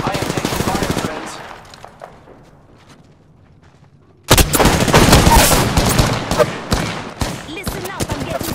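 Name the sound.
gunfire in Apex Legends video game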